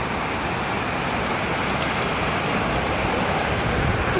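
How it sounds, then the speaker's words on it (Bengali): Heavy rain with large drops pours down steadily as a dense, even hiss and patter of water striking surfaces that lasts throughout, with no voices. "তো এই তো বৃষ্টি শুরু হয়ে গেছে"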